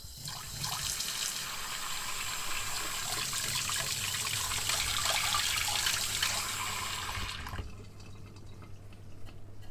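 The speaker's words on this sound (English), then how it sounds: "Water from a tap." Water pouring steadily from a tap, a loud broadband rush lasting about seven and a half seconds before it is cut off, leaving a quiet low hum.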